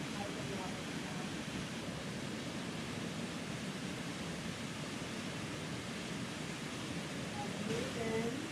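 Steady, broadband rush of a Catskills waterfall, continuous and even throughout with no breaks, a dense wash of falling water filling the scene.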